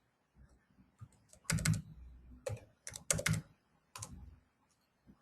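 Typing on a computer keyboard while entering heating-system design values, in short bursts of quick close key clicks separated by pauses, alone in a quiet room.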